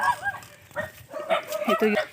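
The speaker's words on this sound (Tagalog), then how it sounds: "Ayan, may aso, baka kagatid tayo niyan." A dog barks a few short times nearby, mixed in with people talking in the background.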